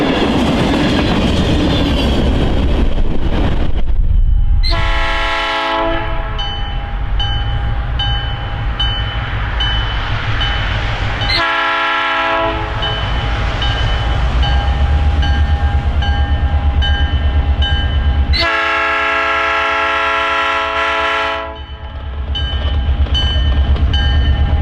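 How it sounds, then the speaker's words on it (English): Norfolk Southern freight train hauled by a high hood locomotive passing on the Chicago Line, a loud steady rumble of wheels with three long horn blasts sounding close. "The 5096 is a high hood locomotive which is set up to run long hood forward."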